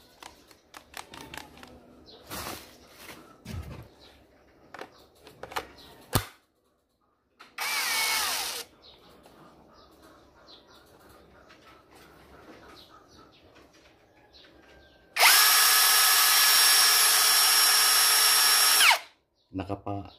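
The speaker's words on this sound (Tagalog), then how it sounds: "At ito naman po yung ating Tanso cordless drill." A Tanzu cordless drill whirs in two loud, close bursts, a short one and then a longer steady run of several seconds, after a stretch of handling clicks and clatter with someone talking.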